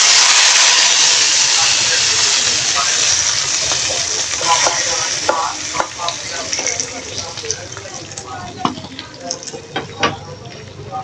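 Hot baghar tempering poured into beef haleem gives a loud, steady sizzling hiss that starts at once and slowly settles, with small crackles and pops spread across it and stirring noises near the end.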